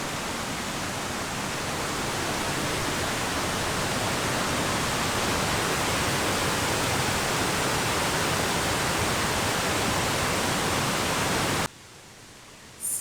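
A waterfall in the Cameron Highlands roars as a dense, steady rush of falling water, loud and close, continuing unbroken for about twelve seconds before cutting off abruptly.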